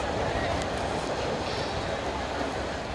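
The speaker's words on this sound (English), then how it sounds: "I'm going to wait for the train." A train passes at steady close range, a dense continuous rumble and roar that holds level throughout without rising or fading.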